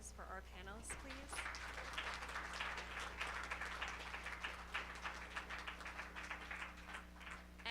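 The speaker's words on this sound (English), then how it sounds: "Can we give a round of applause for our panelists, please?" Modest applause from an audience thanking panelists at a live discussion on Indigenous knowledge and climate, a steady patter of clapping over a low hum, with a voice briefly heard at the start.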